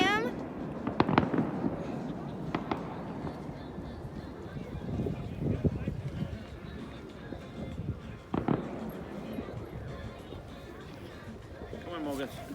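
Fourth of July fireworks go off as scattered sharp bangs and crackles at a distance, with several bursts spread across the stretch. People talk throughout.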